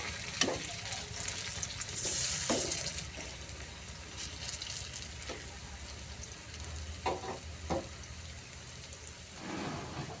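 Pointed gourd fritters fry in a pan of oil, a continuous bubbling sizzle with occasional sharp spits and stirring knocks, steady and close with no talk.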